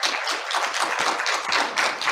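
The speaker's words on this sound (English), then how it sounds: "We'll have a round of applause." A room of attendees at an early childhood policy symposium for legislators claps after being thanked, a brief burst of thick, even applause sustained at steady volume through the short moment.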